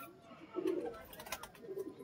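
Two low, throaty pigeon coos, one early and one near the end, over a quiet pigeon loft with faint rustling.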